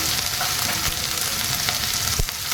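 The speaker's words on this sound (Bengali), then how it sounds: "একটু জিরে ফোড়ন দিলাম" Cumin seeds sizzle in hot oil for tempering a Bengali vegetable dish, a steady, close frying hiss filling the whole stretch with a few sharper crackles and pops, no voices over it.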